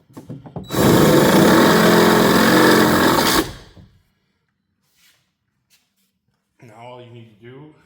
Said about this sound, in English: you just saw I just drilled the hole